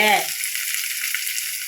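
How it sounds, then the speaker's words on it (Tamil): Onions sizzling in hot oil in a pan for fish curry, a loud, close, steady frying hiss right after a brief sound at the start. "நம்ம இதில் இந்த வெங்காயத்தை சேர்த்துக்குவோம்"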